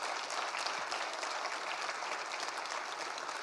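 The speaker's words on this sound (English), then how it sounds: "how about a big hand for our candidates?" An audience at a federal all-candidates forum in the Columbia Kootenay Southern Rockies claps for the candidates, a dense, steady burst of applause filling the room throughout with no talking.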